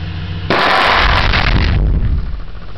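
A very loud blast goes off in a hole, a sudden sharp onset swelling into a dense roaring boom that holds for over a second before fading into a rumbling tail.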